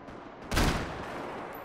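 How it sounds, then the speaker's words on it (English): A single sharp burst of gunfire in the Max Payne 3 video game, a loud broadband blast that decays quickly into a steady noisy background. "We hear a bunch of gunfire."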